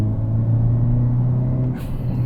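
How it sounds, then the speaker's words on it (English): Steady low engine drone from a 2022 Hyundai Elantra N under light throttle, a smooth near rumble holding even and close throughout, with a brief shift in tone near the end. "I'm going to give it a teeny little bit of gas."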